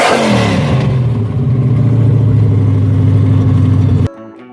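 A 1969 Dodge Charger Daytona resto-modded replica with a 426 Hemi V8 revs loud and close, a deep throaty engine note that climbs and holds before cutting off abruptly.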